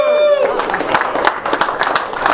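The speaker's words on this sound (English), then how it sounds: "Let's hear it by applause if you know how to drive a stick shift." A comedy club audience breaks into applause, a dense burst of clapping that follows a brief spoken line and continues steadily to the end.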